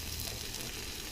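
Onions frying in a pan for Hyderabadi lamb biryani, a brief, steady, dense sizzle heard close and alone.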